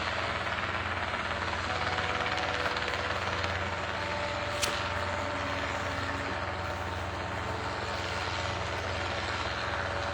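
A helicopter drones overhead during an outdoor gathering, a steady, fairly loud rotor and engine rumble that holds evenly throughout with no talk over it.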